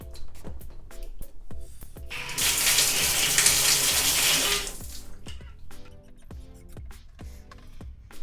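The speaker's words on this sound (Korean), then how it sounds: "부동전 핸들을 잠그니까 이렇게 물이 나오는 거 보이십니까" Water gushes from a frost-free outdoor faucet, a steady loud rush for about two seconds that then cuts back, with sharp clicks and clatter around it.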